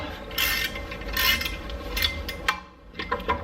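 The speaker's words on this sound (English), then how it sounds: "we're actually going to start to tighten this down, and that should actually push the rotor off of the hub." Bolts being tightened to push a stuck rear brake rotor off the hub of a Lexus GX460, giving close, uneven metallic ratcheting and grinding bursts with brief pauses.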